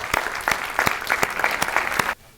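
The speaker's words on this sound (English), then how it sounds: "Please give him a round of applause." A crowd at an annual awards meeting claps in a dense, steady burst for about two seconds before it cuts off abruptly.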